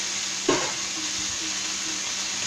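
Tomatoes frying in a pan for tacos give off a steady, close sizzle, with one brief clack of a utensil near the start and no talking.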